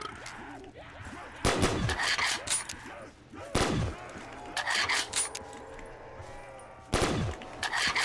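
Gunfire in Call of Duty Black Ops 3 Zombies comes as a few separate sharp, loud shots spaced several seconds apart, over quieter in-game background sound.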